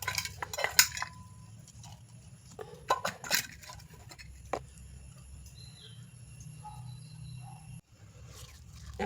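Shallots, garlic and green chilli are crushed, giving a few sharp clinking, crunching strikes early on that thin out into a low background hum.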